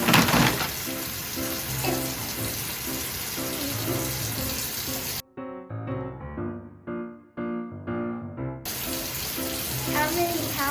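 Tap water pours steadily over a bag of shrimp being rinsed in a kitchen sink, a continuous splashing hiss broken by a short gap where the flow stops before it resumes.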